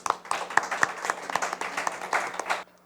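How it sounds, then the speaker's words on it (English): Short burst of audience applause for a school team at a junior science quiz finale, lively scattered clapping that swells briefly then cuts off after under three seconds. "Give them a round of applause."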